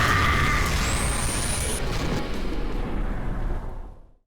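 A Death Star cannon blast in an RPG video game, a single loud sustained explosive roar with a rising whine that fades out after about four seconds.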